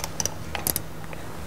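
A torque wrench set to 5 foot-pounds clicks while tightening bolts on a B&M aluminum differential cover for a Ford Super 8.8. Several quick, light, close clicks sound in a quiet shop.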